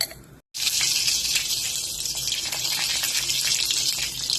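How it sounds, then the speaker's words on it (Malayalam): Mustard seeds hit a drop of hot oil when tempering a dry fish curry, and after a brief silence a loud, steady, close hiss and sizzle follows. "ഒരു തുള്ളി എണ്ണ വെച്ചാൽ മതി കേട്ടോ ഇവിടെ കടുവ് ഇട്ട് കൊടുക്കുന്നുണ്ട്"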